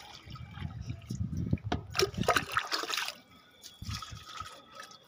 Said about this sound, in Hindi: ये बिल्कुल हो चुके हैं खाली इनमें डाल देते हैं हम पानी वापस से।